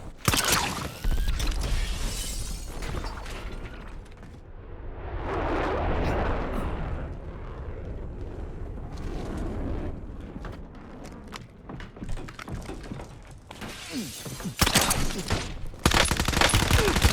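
Gunfire from the video game Call of Duty Warzone, bursts of rapid automatic shots with mechanical clatter and heavy impacts, loud and close, coming in clusters with short lulls between.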